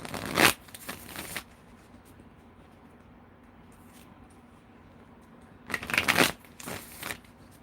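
Tarot cards are shuffled in two quick bursts of riffling and snapping, one at the start and one near the end, with near-quiet in between.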